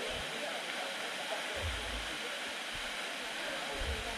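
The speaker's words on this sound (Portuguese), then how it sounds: "essa aqui é a do Monjolinho, ó. Queda pequenininha, né?" Monjolinho falls, a small waterfall on a trail, gives a steady broadband rush of falling water that continues unbroken, with faint low rumbles and bumps beneath it.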